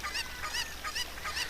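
A Cucco chicken from Zelda: Ocarina of Time makes four evenly spaced, honking clucks that sound close and clear against faint game background sound.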